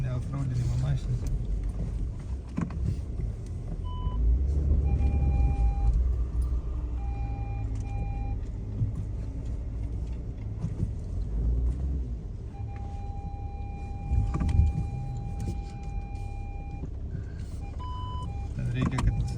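A car, not an off-road vehicle, crawls slowly over a rough unpaved track, with a steady low engine rumble, thumps from the uneven ground and a few short beeps, while people talk throughout.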